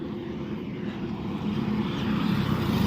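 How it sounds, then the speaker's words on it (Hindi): Traffic roars along a national highway, a steady broad rumble that swells louder as trucks speed past nearby. "ट्रकें अपनी पूरी गति से दौड़ती हुई"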